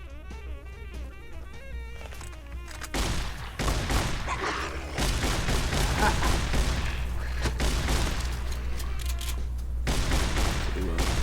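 Gunfire rattles in rapid bursts inside the X-8 Research Facility in Fallout New Vegas, dense repeated shots and booms layered over game music, fairly loud and continuous.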